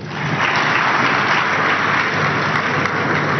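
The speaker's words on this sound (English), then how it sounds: "So clap for my brothers." A church congregation clapping at a live service, loud, continuous applause from many hands that swells quickly and stays sustained to the end.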